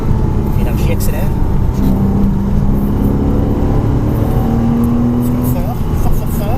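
A Porsche Cayman S accelerates hard on the Mettet circuit, its engine note rising steadily as speed builds, a loud continuous drone heard from inside the car beneath an instructor's voice.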